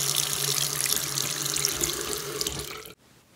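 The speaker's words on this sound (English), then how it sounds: "wash your hands with the soap and the warm water" Hands washed at a sink with soap and warm water from a running tap, a loud steady gush of water that cuts off abruptly near the end, leaving quiet.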